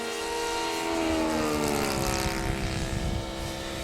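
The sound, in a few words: RC aerobatic airplane Addiction doing a slow roll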